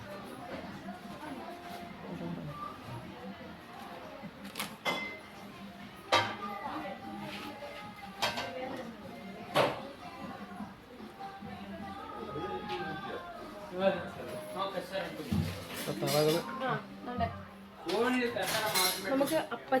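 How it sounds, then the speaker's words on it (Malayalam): A heavy iron appachatti pan, the kind used for frying fish, being picked up and handled, giving intermittent metallic clanks and clinks under near-continuous talking. "നല്ല ഇരുമ്പിന്റെ, നമുക്ക് മീനൊക്കെ വറക്കാൻ പറ്റുന്ന അപ്പച്ചട്ടി, ഇരുമ്പ് ചട്ടിയാണേ, അയണാണ്."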